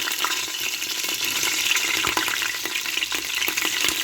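Green chillies fry in hot oil with whole spices and bay leaf for a Schezwan biryani, crackling and popping in a dense, busy sizzle with sharp spits scattered throughout, up close and without talk.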